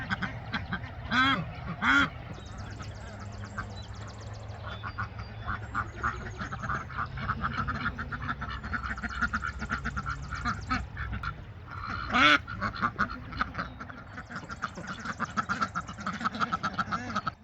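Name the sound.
ducks quacking in a pen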